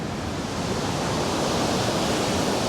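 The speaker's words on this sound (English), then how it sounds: "here's the controlled water drop" Water rushes over a controlled water drop on a canoe route at Elliot Lake, a loud, close, unbroken roar of churning water with no talking.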